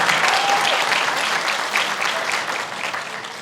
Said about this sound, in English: could you please give them all a round of applause for supporting you throughout your journey?